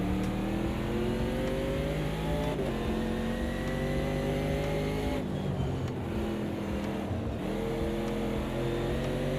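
A sim-racing game car engine revs hard and steadily, its rising and falling harmonics running the whole stretch with short gear-change dips, loud and up close with no talk.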